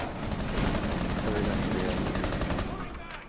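Rapid gunfire from an operator in Rainbow Six Siege, a dense run of shots close and loud for about three seconds, with game sounds and voices mixed beneath.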